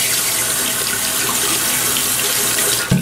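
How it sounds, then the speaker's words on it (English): Warm water runs steadily from a tap onto the bristles of a shaving brush, a loud close hiss with no talk, ending in a brief splash. "here's the brush, and we're just gonna put some warm water on these bristles"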